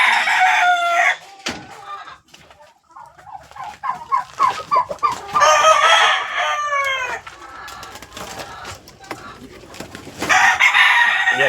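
Loud rooster-like crowing and clucking from several brooding turkeys close by, in repeated bursts with short quiet gaps between them.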